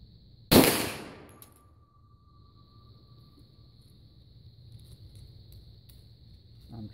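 A single loud handgun shot from a 10mm or .460 Rowland hand load, sharp and close, with a ringing tail that fades over about a second into quiet outdoor ambience.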